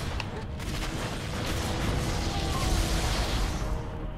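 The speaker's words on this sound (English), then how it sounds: "Why are all of the explosions happening?" Dense, rumbling explosions in Halo: Combat Evolved Anniversary blend into a continuous roaring barrage, loud and close, with no clear gaps.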